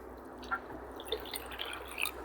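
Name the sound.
water poured from a glass onto cotton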